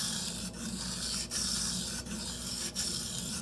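A Benchmade Anthem knife blade pushed back and forth on a Shapton Pro whetstone, giving a steady, close, abrasive rasp with brief dips at each stroke change, repeating about every 0.7 seconds.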